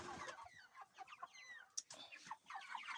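Farmyard chickens near broiler hens cluck and chirp in a quiet, busy chorus of short repeated calls, close by and fairly soft, with no talk over them.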